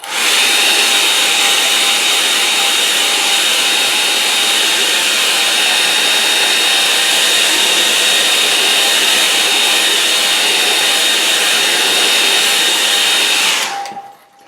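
A hair dryer dries a watercolour painting, blowing as a loud, steady close-up roar with an even whine throughout before cutting off abruptly near the end.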